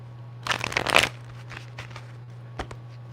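Tarot deck shuffled by hand in a quick riffling burst of crisp card flutter, then a few softer shuffles and a sharp snap near the end, close and alone over a faint steady hum.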